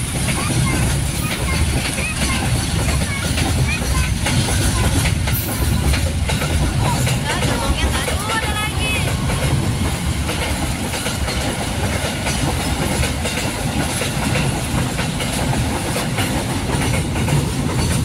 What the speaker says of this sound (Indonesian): Wah, kereta barang.